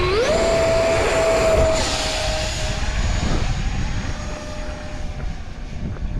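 An FF-117V2 70mm electric ducted fan model jet on 4S pyro drone batteries spools up to a loud, rising whine and takes off, its steady high-pitched roar fading slightly into a headwind.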